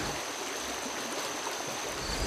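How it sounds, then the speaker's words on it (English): Cedar Creek, a stream in Virginia's Shenandoah Valley, flowing and bubbling toward the North Fork of the Shenandoah River, a steady, dense rush of running water with no voices. "a stream called Cedar Creek bubbles into the North Fork of the Shenandoah River"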